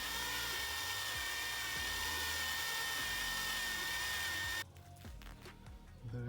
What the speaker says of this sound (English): I have added a bit of oil inside the valve guide, and now let's try to ream it